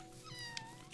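A cat in the video game Minecraft lets out a single short meow, moderately loud against a steady wash of in-game background sound, with no talking.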